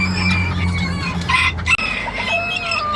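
Bantam hen clucking close by in a short, throaty burst, with a couple of brief, wavering calls running together in a farmyard setting.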